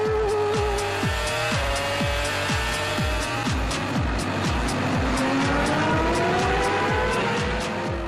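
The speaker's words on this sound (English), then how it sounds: "Nick Heidfeldt's got into a spin" Formula 1 race cars from the 2006 season scream past at close range with loud, rhythmic engine notes and repeated downshifts, while one car spins with tire squeal and skidding, all without talk.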